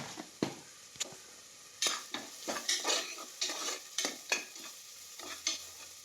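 Onions with ginger and garlic sautéing in a pan, a soft steady sizzle broken by repeated scraping stirs of a spoon against the pan, close up and fairly quiet.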